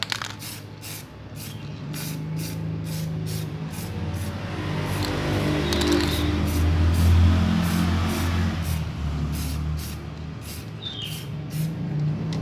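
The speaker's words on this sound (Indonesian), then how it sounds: "Anda tinggal semprot-semprot saja bagian mukanya. Semprot dengan rata ya." An aerosol can sprays in a series of short hissing bursts onto the face of an engine piston, followed by one longer continuous spray. The bursts are close and steady over a faint low background rumble.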